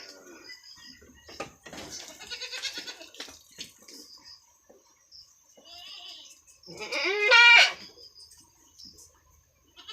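Goats bleat on a farm, with scattered short calls and one loud, close, wavering bleat standing out, set among quiet rustling and brief talk.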